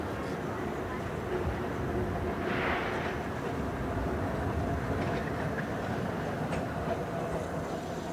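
Rumbling trams rolling past in Budapest with a steady low drone and faint clicking wheels, a distant squeal briefly rising.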